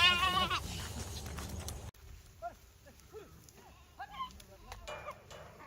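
A large flock of sheep bleat at close range in bursts of varied calls, with loud crowd noise and people talking nearby.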